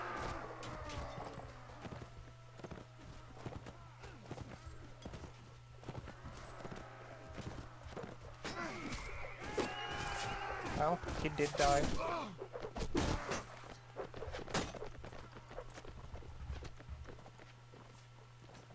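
Horse hooves clip-clop in the Mount & Blade: Warband video game amid a chaotic battle, with steady galloping, clashing and scattered impacts over a constant hum, while someone talks over it.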